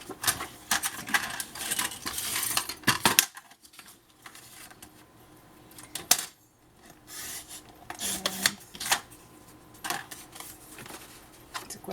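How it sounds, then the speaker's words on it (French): A piece of paper is cut for a rigid two-section scrapbook folio, giving a cluster of crisp snipping and rasping strokes close by for about three seconds, then quieter scattered handling sounds. "Vous allez couper ce morceau."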